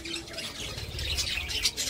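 A baby pet bird, the chick of a yellow parrot-type cage bird, gives harsh, repeated squawks at close range, loud and bright throughout the short burst.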